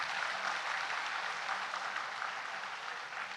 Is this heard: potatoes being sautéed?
no